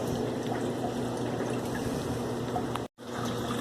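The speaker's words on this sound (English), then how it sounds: "we are definitely draining the hot water tank" Water pours steadily from the drain of a hot water heater tank, a constant splashing gush that cuts out abruptly for a moment before carrying on.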